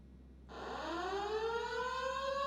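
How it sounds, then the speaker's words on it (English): A fire alarm from the Fire Alarm Reborn mod in GTA 5 kicks in abruptly and holds a steady, rising wail like a siren, fairly loud and continuous with no talking over it. "So you can see all our strobes and horns are going off."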